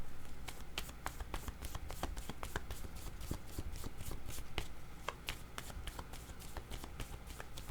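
Tarot cards shuffled and drawn for a reading, a long run of quick, crisp riffling taps and slaps, close and continuous, with no talking.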